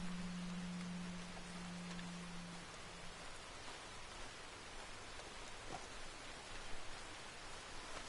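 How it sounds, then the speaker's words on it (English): Rain falls steadily in the Red Dead Redemption 2 game world on a humid riverside walk, a soft continuous hiss that stays even throughout with no voices, a brief low hum showing near the start. "Started to rain a little bit."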